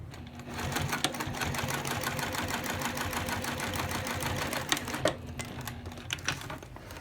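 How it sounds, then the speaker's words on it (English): A sewing machine runs steadily while top stitching a small wallet's interior panel, a quiet, fast, even rattle of needle strokes with a few sharper clicks near the end. "Now we're going to go to the machine and we're going to top stitch on this top interior panel"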